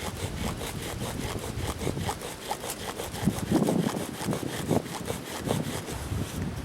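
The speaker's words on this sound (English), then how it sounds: "it was necessary to make a whole new kit. New spindle, new fireboard, and another hole in the bearing block, and I tightened up my bow." Bow drill spindle spinning against a wooden fireboard outdoors in a blizzard, a rhythmic back-and-forth rasping like sawing, with strokes roughly every fraction of a second, close and steady.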